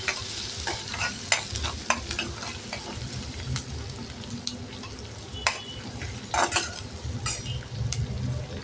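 Onion sautéing in a pan with cumin seeds, with steady frying sizzle and frequent stirring scrapes and clinks of a spatula against the metal pan, heard alone.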